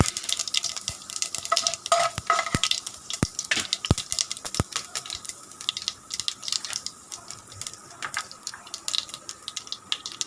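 Mustard and fenugreek seeds fry in a hot pan with a steady, dense sizzle. Frequent sharp pops and crackles break through the sizzle throughout.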